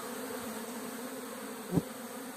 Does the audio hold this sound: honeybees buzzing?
yes